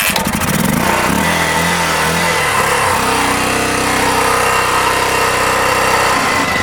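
A military Harley-Davidson dirt bike engine runs loud and steady throughout, with a sputtering, uneven stretch early on before settling into a continuous rumbling idle with rising revs, heard alone up close.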